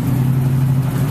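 A car's engine drones steadily while it weaves through traffic on wet downtown streets in Iguala, Mexico, a close, constant mid-pitched hum with a low rumble and faint road hiss, with no talking.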